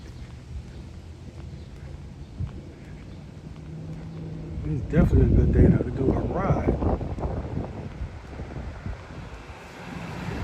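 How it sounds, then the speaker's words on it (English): Gusty wind rumbles and buffets the microphone, swelling louder in the middle, while someone talks over it. "I'm pretty sure y'all can hear the wind."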